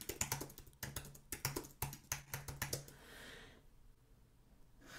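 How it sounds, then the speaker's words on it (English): Quick bursts of typing on a computer keyboard, close and fairly loud, with irregular clusters of keystrokes for about three seconds before the room falls quiet. "Can I type now?"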